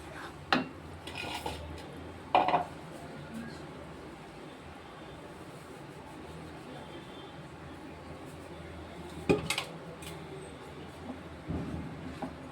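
A spoon stirs roasted, ground moong dal flour in a pan over low heat, making a soft continuous scraping with a few sharper clinks against the metal, fairly faint and steady throughout.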